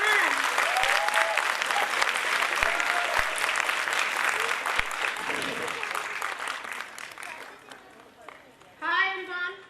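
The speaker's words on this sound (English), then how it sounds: "Please everyone give a round applause for our nurturing mother, Neha ma'am." Audience applause at a school annual festival, dense sustained clapping from a large crowd in a hall with whoops and cheers on top, fading before a voice speaks at the end.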